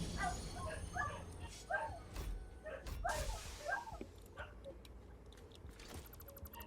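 Dogs whimpering and yipping at a door, a series of short high whines in quick bursts over a low background rumble, fading toward the end.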